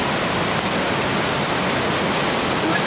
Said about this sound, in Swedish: vattenfallet är så mäktigt